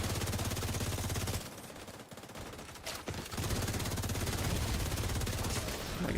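Bursts of rapid automatic gunfire in the video game The Division 2 roar loud and continuous, break off briefly into scattered shots, then resume heavily.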